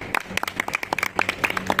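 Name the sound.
class applause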